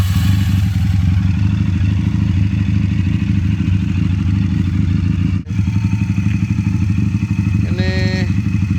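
Regal Raptor Spyder 350 motorcycle fitted with a racing coil, engine running loud and steady at close range, with a brief dip midway and a few short higher tones near the end.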